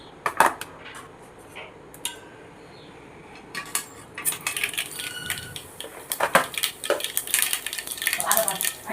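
Mustard seeds hit hot oil in a small pan while making chutney, giving scattered crackling pops and metallic clinks of utensils close by, faint and irregular, with a voice briefly under the clatter.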